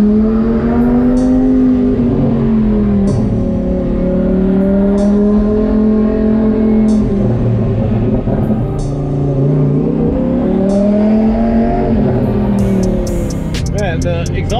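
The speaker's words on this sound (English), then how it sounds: "the exhaust on this thing sounds like someone's beating on a Cherokee drum." Twin-turbo Lamborghini Huracan exhaust accelerating on open roads, a loud, deep, steady engine drone that rises and falls in pitch through gear changes, with sharp pops near the end.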